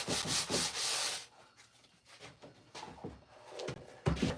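Sandpaper rubs briskly back and forth over a wooden handle, with a long harsh stroke at the start and then shorter, uneven rubbing passes, close up and with no talk.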